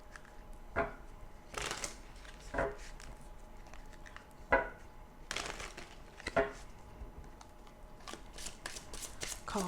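Tarot cards shuffled by hand during a love reading for Leo, heard as several quick papery riffle bursts at irregular intervals, close and fairly quiet, with a soft room hush between them and no talking.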